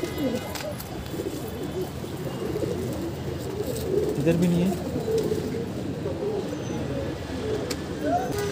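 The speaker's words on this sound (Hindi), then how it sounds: "ये रहा हमारा शेराजी कबूतर जो कि यहाँ पे जाके बैठा है" Soft pigeon coos from Sheraji, a pet pigeon perched in a new loft, murmur low beneath steady background noise while a person speaks briefly nearby.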